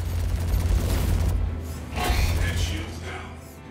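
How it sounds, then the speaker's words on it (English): Heavy booming gunfire in Star Citizen, a sustained rumbling barrage that drops away, then a second burst, loud and close with low-end weight. "I'm just able to look at him and shoot"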